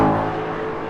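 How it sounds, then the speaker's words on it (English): Ford Mustang engine fitted with new mufflers, idling with a deep, close, steady rumble for under a second. "Running new mufflers on Henry's Mustang."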